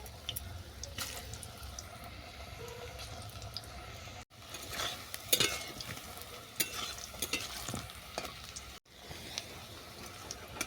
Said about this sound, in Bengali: বাকি যেগুলো আছে সেগুলো আমি একইভাবে ভেজে নেব